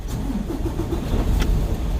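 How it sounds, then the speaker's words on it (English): A truck engine turning over and starting up, a low rumbling idle with a brief rev, fairly loud and close with no talking. "if I start this truck up"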